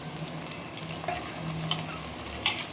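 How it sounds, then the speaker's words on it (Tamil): Onions sauté in hot oil for a mushroom and quail egg gravy, a soft even sizzle with several sharp spatula taps against the pan, no speech. "வெங்காயத்தை சேர்த்திக்கலாம் வெங்காயம் நல்லா வதங்கட்டும்"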